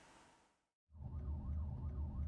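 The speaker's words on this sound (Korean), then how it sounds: "경찰 암행 순찰차가 사이렌을 울리더니 차량을 뒤쫓아갑니다" An unmarked police patrol car's siren wails in a steady, rising and falling cycle, close and loud over engine rumble, following a short gap of quiet road noise.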